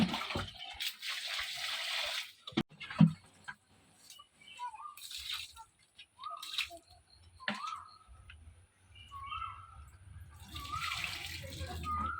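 Water poured onto plants in a village home garden, heard as intermittent splashing bursts separated by short pauses, fairly close.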